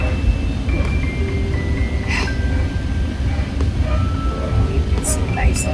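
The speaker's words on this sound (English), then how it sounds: "So, we're on the train, we're moving" A moving train car gives a steady low rumble and rattle throughout, with faint squeals and clicks from the rails above it and a person talking over the noise.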